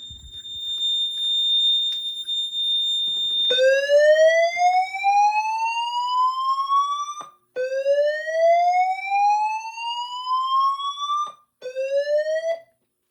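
A Notifier NFS2-640 fire alarm system sounds after a detector test, a loud, close electronic whoop that sweeps upward in three long rising cycles, preceded by a steady high tone, with no talking.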